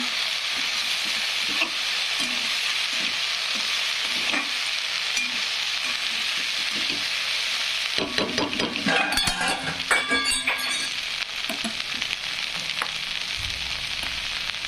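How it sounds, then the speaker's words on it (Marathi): Peanut powder mixed with green chillies and garlic is stirred into okra frying in a pan, with a steady loud sizzle under light spoon scrapes and clinks that grow busier and more metallic partway through. "हे शेंगदाण्याचं कूट त्याच्यात हिरव्या मिरच्या आणि लसूण टाकलेलं आहे तर हे भिंडीमध्ये टाकून घेणार आहे मी"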